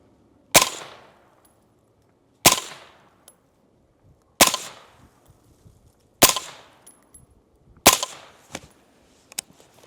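Five loud, sharp reports from a 5.56 rifle fitted with an AAC suppressor, fired at a steady pace about two seconds apart, each followed by a short decaying echo and faint clinks.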